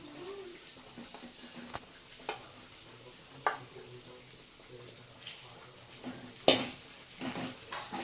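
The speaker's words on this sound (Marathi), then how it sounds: "आता आपलं मिरची आणि शेंगदाणा चांगला परतून झालेला आहे. तर त्याच्यामध्ये मी थोडा साबुदाणा टाकते." Sabudana tossed into a pan with sautéed green chillies and peanuts for a fasting meal, a soft low frying sizzle with scattered clicks and scrapes of stirring, one sharper clatter near the end.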